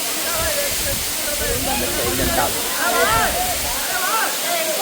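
Katiki waterfall in Araku Valley rushes as a steady broadband roar throughout, close and loud, with a person talking over it.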